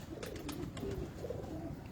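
Sialkoti pigeons coo softly on a rooftop loft, low burbling calls repeating over a dull background hum, fairly faint and distant.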